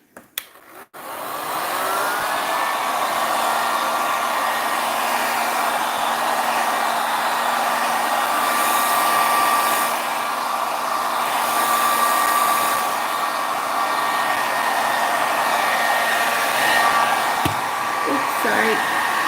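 A hair dryer blows on alcohol ink freshly dripped onto a geode-style art piece, switching on after a few clicks and then roaring steadily and close for the rest of the stretch, with no speech.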